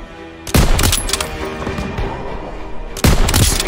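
Machine gun fire in the World War II shooter Call of Duty: World at War, two loud, close bursts of automatic fire with booming impacts, a busy battle din rumbling between them.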